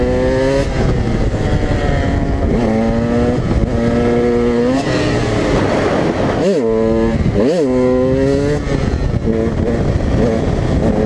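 A dirt bike engine revs and drones steadily while riding through a flooded road, its pitch rising and falling with throttle changes, close and loud throughout, with a couple of sharp dips as the rider eases off.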